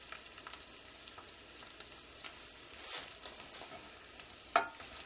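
A spoon stirs salt and Hungarian paprika into goulash cooking on a grill, scraping and clinking softly over a low, steady sizzle. One sharper knock comes near the end, and no voices are heard.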